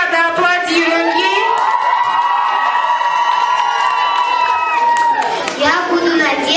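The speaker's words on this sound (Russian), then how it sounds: "Аплодируем ей." Children at a summer camp contest cheer and shout loudly in a crowd, a dense wash of high excited voices and whoops filling the whole stretch, close and sustained.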